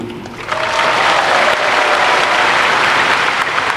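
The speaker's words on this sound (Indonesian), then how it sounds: "Tepuk tangannya, kurang semangat." Audience at a political rally for the Koalisi Indonesia Maju breaks into loud, sustained applause that swells after a brief softer start and continues as a dense, even wash of clapping.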